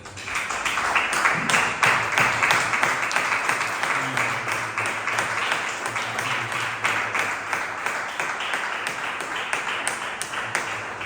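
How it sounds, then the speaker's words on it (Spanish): A church congregation at a harvest celebration claps loudly, a thick, sustained round of applause with a pulsing, rhythmic edge that runs for about eleven seconds. "Dale un fuerte aplauso a nuestro Señor."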